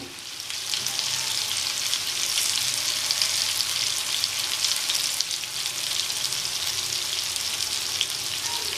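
Mushrooms fry steadily in a pan for restaurant-style mushroom gravy, a dense, continuous sizzle with crackling pops, fairly close and even throughout, with no talking.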